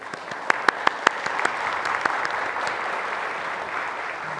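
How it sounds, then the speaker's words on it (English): An audience claps at a youth leadership awards ceremony, a few sharp early claps rising into a steady, moderately loud wash of applause that carries on evenly. "So a round of applause for her."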